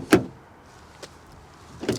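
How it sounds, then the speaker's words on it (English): The hollow-sounding door of a VW Golf Clubsport Mk 8.5 shuts with a sharp, close thud, followed by softer clunks and a second muffled knock near the end. "The very disappointingly hollow sounding door continues"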